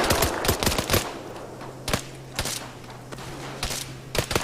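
Rapid bursts of automatic gunfire in the video game Arma 3, with sharp cracks clustered early and then scattered single and double shots over a steady low hum, loud and close.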